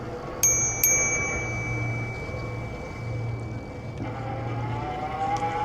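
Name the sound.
U-Free bicycle bell being rung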